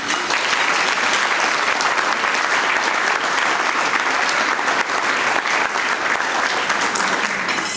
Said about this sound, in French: Ils méritent tous une bonne main d'applaudissements.